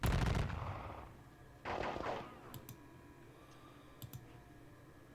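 Two bursts of rapid gunfire from a Napoleonic Battle of Friedland wargame, fairly loud and separated by a pause, with a few light clicks afterward.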